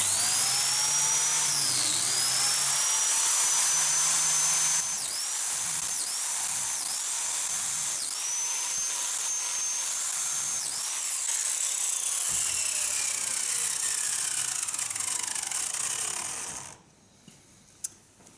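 A biscuit cutter whines loudly as it cuts slots into wood, a high steady motor tone with repeated dips as the blade bites in, then winding down and stopping near the end.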